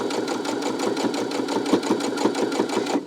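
A sewing machine runs steadily, stitching around lanyard fabric made from jelly roll strips, its needle clattering in a fast, even rhythm throughout with no talking.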